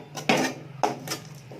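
Greens poriyal with grated coconut being stirred in a pan, with a few distinct scraping clatters of a utensil against the metal at irregular intervals, close and moderately loud with no talk.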